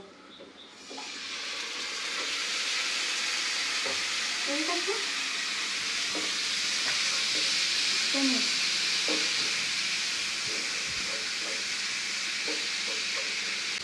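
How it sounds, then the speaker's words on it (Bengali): Marinated beef sizzles steadily in a hot pan on the stove for a Bengali beef bhuna, a continuous bright hiss with scattered small pops and faint stirring, and a voice speaks briefly over it. "এই প্যানে কিন্তু আমি ম্যারিনেট করা মাংসটা বসিয়ে দিব সেই ম্যারিনেট করা মাংস এটা আমি চুলো দিয়ে দিব"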